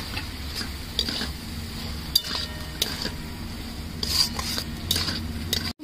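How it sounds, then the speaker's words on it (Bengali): Pointed gourd (potol) sautéed with spices in a pan, with a low continuous frying hiss and scattered clinks and taps of a spatula against the pan. "এবার ভালো করে এটাকে আমি কষিয়ে নেব।"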